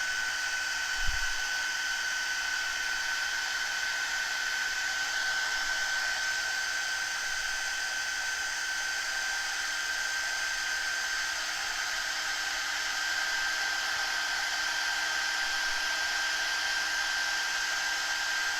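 A hair dryer blows steadily on a craft project to dry the ink, its continuous whirring hum holding at an even level the whole time with no talking over it.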